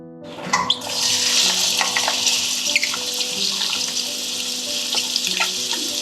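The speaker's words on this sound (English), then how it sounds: "First we'll fry our onions." Onions frying in hot oil in a Goan kitchen, a loud steady sizzle that starts abruptly as they hit the pan and keeps hissing throughout with a few crackles and no voices.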